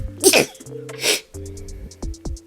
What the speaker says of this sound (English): Oh, I feel like I gotta sneeze.